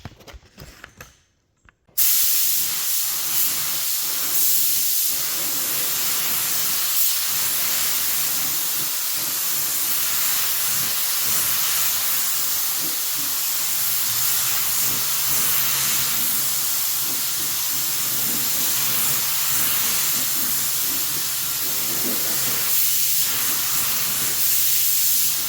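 A Rust-Oleum spray paint can lays down a coat of paint in one long, continuous, loud hiss that starts abruptly after a couple of seconds of quiet and holds steady to the end.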